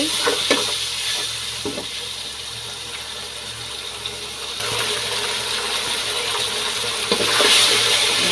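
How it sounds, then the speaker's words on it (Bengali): Garlic and ginger paste frying for beef biryani makes a continuous close sizzle, with occasional clicks and rattles of a utensil against the pot and no talking. "এখানে আমি এখন একটু রসুন বাটা, একটু আদা বাটা দিয়ে দিব। তারপরে এগুলো ভেজে ভালো করে একটু কষিয়ে নেব।"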